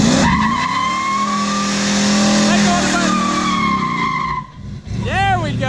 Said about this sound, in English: My hot wife doing a hot burnout.